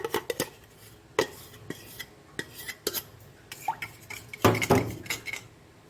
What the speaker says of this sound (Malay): Kacau ya dengan telur tu.